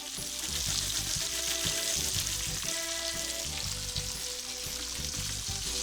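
Red snapper fillets fry in a hot pan with a dense, continuous sizzle, close and steady, with faint low clatters of the pan underneath.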